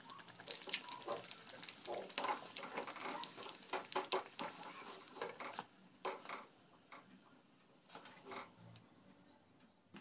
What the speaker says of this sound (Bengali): এইভাবে সবগুলো পুরোটাই ভেজে নেব মালপোয়াগুলো